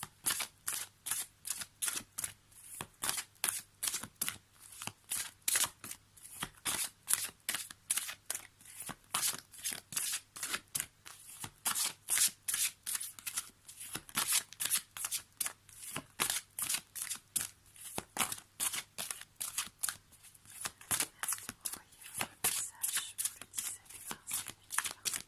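Oracle cards from an animal-themed deck are shuffled continuously and quickly, a close, steady run of crisp riffling slaps that carries on without pause and without any talking.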